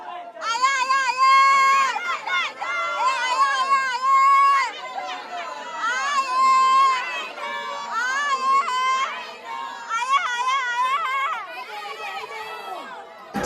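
A dense crowd at a palkhi religious procession fills the air with continuous overlapping voices, including women's and children's voices, chanting and calling out loudly and close by with no pause.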